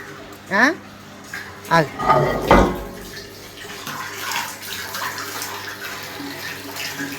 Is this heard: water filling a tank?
yes